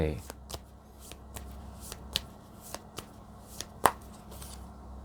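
Tarot cards are shuffled and handled at close range during a Thai pick-a-card reading, giving a series of crisp, irregular flicks and taps, with one sharper snap near the end.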